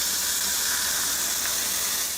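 A steak sizzles on a barbecue grill with a steady, close, bright hiss that holds without a break.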